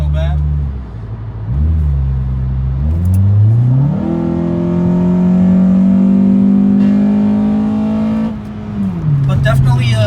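Inside a 2004–08 Acura TSX with a DNA Motoring catback exhaust, the engine hums and rises through revs as the car accelerates, with a steady droning tone and gear-change dips, heard from the cabin.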